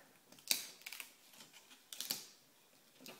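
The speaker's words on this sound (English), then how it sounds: "I'm just going to go ahead and show you what that would look like as I peel it off." A decor stencil is peeled off a card after sponged ink has dried, giving a few sharp, close crackling ticks and soft papery rustles in short bursts.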